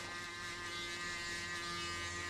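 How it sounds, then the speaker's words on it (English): An electric shaver buzzes steadily and continuously, close and even in level, while shaving hair during a mid taper fade haircut. "Now grab your shaver and shave everything just before the guideline."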